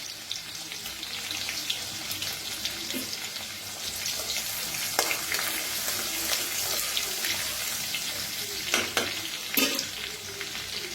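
Garlic, dry red chillies and cumin roasting in hot oil for a moong dal kadhi pakoda tempering, giving a steady close sizzle with occasional scraping stirs and clinks, no voices.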